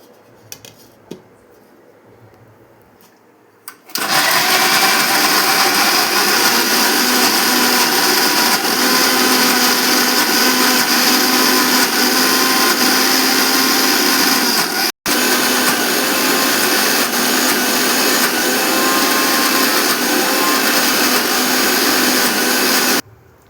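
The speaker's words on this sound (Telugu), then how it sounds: "వేసి ఈ మిశ్రమాన్ని మనం మిక్సీ పట్టుకోవాలి." A mixer grinder blends tamarind, salt and bottle gourd into chutney. After a quiet moment it starts with a loud, steady roaring whir that runs nonstop, with a split-second break midway, right up close.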